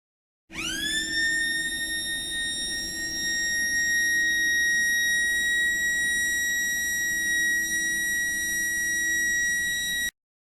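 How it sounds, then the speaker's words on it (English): A loud, steady electronic alarm tone sounds continuously for about ten seconds, a harsh sustained beep with no variation and no talking; a department evacuation alarm at a wharf. "The second alarm you may hear will sound in the event of a department evacuation"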